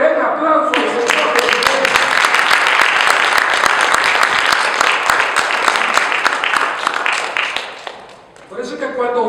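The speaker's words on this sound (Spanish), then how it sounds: "Alguien que le dé un aplauso al Señor." A church congregation gives a loud, sustained round of applause during a sermon, dense clapping filling the space before fading away, with the pastor's voice returning at the end.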